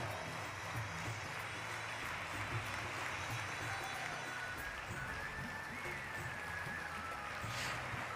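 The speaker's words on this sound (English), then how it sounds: "Let us all put our hands together for a round of applause" Applause from an audience at a cultural program recognising service members, a steady continuous patter of clapping with faint crowd murmur throughout.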